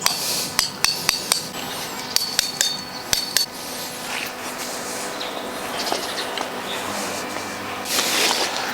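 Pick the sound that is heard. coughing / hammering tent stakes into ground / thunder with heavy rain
hammering tent stakes into ground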